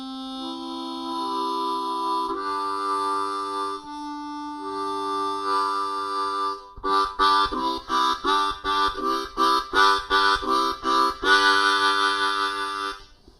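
Harmonica chords built up from hole 1 to holes 1 through 3, first held as long sustained tones, then played as a rapid series of short rhythmic pulses alternating draw and blow, close and clear with no talking.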